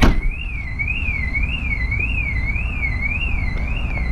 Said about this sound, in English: their van's going off, their alarm